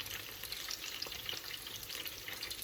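Sicilian fish cakes frying in hot oil, a dense, continuous crackling sizzle with busy popping throughout, close and steady with no speech.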